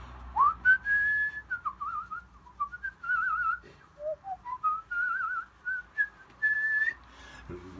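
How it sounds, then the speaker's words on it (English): A person whistles a wandering, melodic tune while working on a watercolour painting of a farm house, clear and close, with short phrases broken by brief pauses and no talking. "We whistle while we work."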